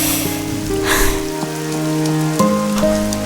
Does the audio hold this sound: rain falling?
yes